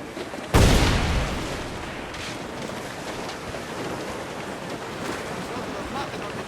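A ship's cannon blast in the naval game Assassin's Creed IV Black Flag, a single sudden loud boom followed by a long rumbling decay over wind and sea noise.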